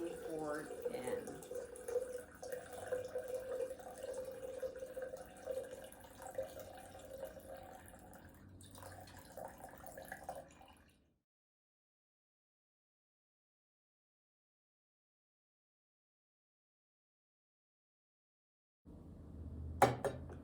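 Water trickles and splashes steadily as it is poured along a string in a simple science experiment, with a faint continuous wash for several seconds before stopping, then a brief splash returns near the end.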